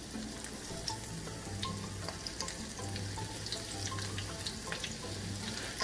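Shrimp fry in hot oil, giving a steady, dense crackling sizzle with small pops throughout and no voices.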